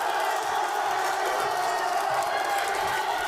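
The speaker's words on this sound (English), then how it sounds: "That's the Dolphins men's team encouraging the home crowd" Home crowd at a Brunswick Dolphins women's basketball game against Cape Fear, roused by the Dolphins men's team, gives a steady, dense roar of cheering and shouting that holds at an even loudness throughout.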